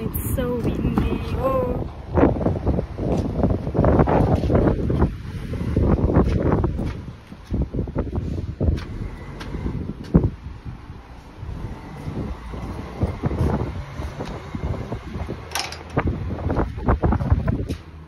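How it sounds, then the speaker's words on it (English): Strong outdoor wind buffets the microphone with constant low rumbling gusts while someone talks over it throughout. "I am here and it's so windy"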